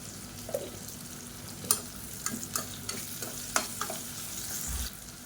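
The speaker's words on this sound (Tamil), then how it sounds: "இப்போ வெங்காயம் நல்லா வதங்கிடுச்சு" Chopped onions sautéing in oil with a little ghee for a soya chunks kurma give a steady close sizzle, broken by a handful of sharp spoon scrapes and clicks against the pan.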